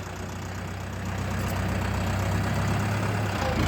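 A KATA 354 mini tractor's 35 hp diesel engine chugs steadily at close range while ploughing virgin ground with a three-bottom plough, a low, even drone that grows slightly louder partway through.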